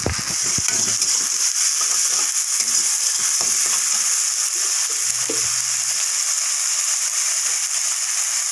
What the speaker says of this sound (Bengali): বেটে রাখা মশলাগুলো দিয়ে দিচ্ছি